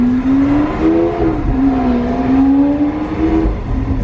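Loud Lamborghini engine pulling hard and revving up through gear shifts with brief pauses between them, a steady rising and falling whine heard up close with the window open.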